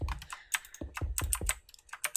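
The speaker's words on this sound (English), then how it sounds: "Apologize for people who hate the sound of mechanical keyboards." Fast typing on a mechanical keyboard during a Minecraft building session, with close, sharp key clicks and some heavier thuds in an irregular, busy rhythm and no voices.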